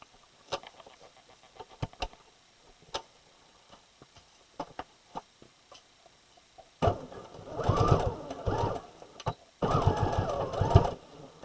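A Simplicity S9456 sewing-pattern project runs through a sewing machine in two loud bursts of steady, humming stitching near the end, after quiet handling clicks and taps.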